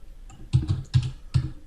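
Computer keyboard typing while code is entered, three short quick bursts of clustered key clicks spaced about half a second apart, close and clear with no talk.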